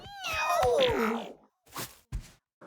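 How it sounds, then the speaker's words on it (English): Cartoon cat in the video game Mewgenics gives a long, drawn-out meow with a wavering pitch, close and clear, followed by two short thumps. "Meow."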